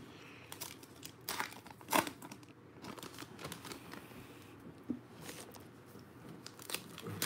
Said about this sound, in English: Here we go with the ripping.